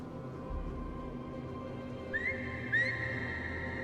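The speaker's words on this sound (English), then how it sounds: "Oh, I could whistle this whole time?" Two short rising whistle notes sound in The Pathless video game, spaced under a second apart over a steady low ambient game background.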